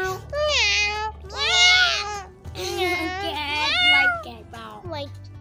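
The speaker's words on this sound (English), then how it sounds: "Meow." Several high, drawn-out cat meows in a row, close and loud, over a steady low background hum.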